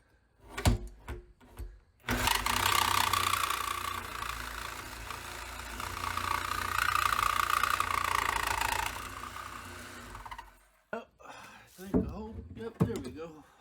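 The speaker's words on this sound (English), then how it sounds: "Use our sawzall with a metal cutting blade to cut through the band." A sawzall fitted with a metal cutting blade cuts through the metal band on a whiskey bourbon barrel, a loud steady buzzing roar for about eight seconds, with shorter noisy bursts and handling sounds before and after.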